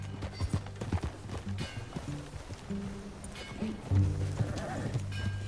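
Horse hooves clip-clopping in Red Dead Redemption 2 as riders set off together, with a few whinnies and snorts, steady and close, layered over game music and ambient tones.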